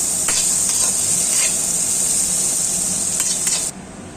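Fish frying in a pan with onion, green chilli and lemon, giving a steady loud sizzle and hiss with a few scraping stirs. The sizzle drops sharply near the end as the pan is covered.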